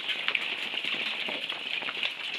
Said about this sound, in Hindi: ओले आके गिर रहे नीचे।